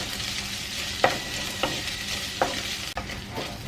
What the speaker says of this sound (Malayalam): ഇനി അത് നല്ലൊന്ന് മൂപ്പിച്ചെടുക്കണം നമുക്ക്